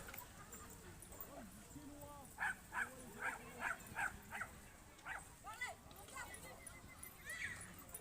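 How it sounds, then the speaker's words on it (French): Dogs in a playful scuffle in a park near a skatepark, a run of sharp barks and yaps, several short bursts in quick succession, fairly distant, amid a quiet outdoor background. "petite baston de chien, ce qui est normal"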